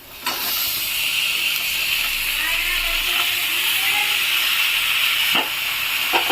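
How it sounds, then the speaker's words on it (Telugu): Tomato pieces drop into hot oil with cumin and garlic and set off a sudden, steady sizzle that hisses loudly and evenly for several seconds, close by, with occasional clinks of a utensil. "దీంట్లో ఇప్పుడు కట్ చేసి పెట్టుకున్న టమాటా ముక్కలను వేస్తున్నానండి"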